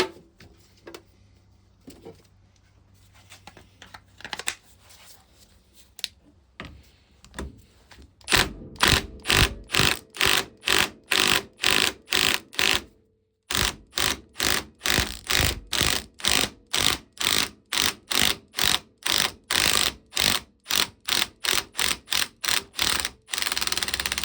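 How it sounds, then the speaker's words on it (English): Rattle gun (impact wrench) on a part of a 1921 Lister TM type stationary engine: after some quiet fiddling, loud rapid hammering bursts repeat in a steady rhythm, break briefly, then carry on close by. "Let's try it with a rattle gun."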